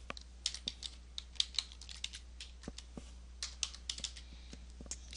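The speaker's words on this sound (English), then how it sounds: "and type our title." Typing on a computer keyboard to enter a title, a quick irregular run of close key clicks with short pauses over a steady low hum, no talking.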